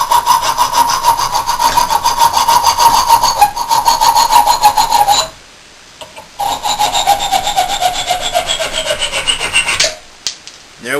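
An MXZ saw cuts a hardwood dowel held in a vise with fast, steady rasping strokes, close and loud. A pause of about a second falls midway, and then the sawing resumes and stops near the end.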